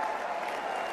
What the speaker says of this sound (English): Don't applaud that.